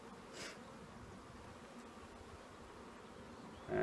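Honey bees buzz softly and steadily around an open hive during a natural beekeeping inspection of brood comb, a faint continuous drone with a brief rise near the start and a louder handling noise at the very end.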